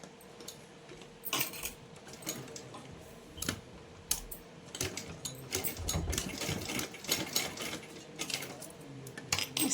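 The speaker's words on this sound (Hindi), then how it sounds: "देखिए इस तरह से यहाँ से यहाँ तक सिलाई लगाएंगे।" Sewing machine stitching a dress for a Laddu Gopal idol: bursts of fast mechanical needle chatter start and stop repeatedly, close and clear, with sharp clicks between runs and no talking.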